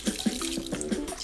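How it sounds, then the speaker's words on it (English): Splashing tap water runs over boiled Redcat Gen8 memory foam RC tire inserts as they are rinsed in a sink, with brief irregular gurgles and splatters close by. "Once this Charlie Chaplin boot soup is cool, you gotta rinse it out"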